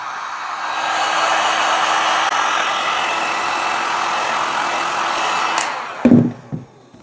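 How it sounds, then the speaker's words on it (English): Heat gun blowing hot air over worn leather Loake shoes coated in balm, a steady loud whooshing drone lasting several seconds before it cuts off with a few clunks and handling knocks. "I'm going to just give it another blast with the heat."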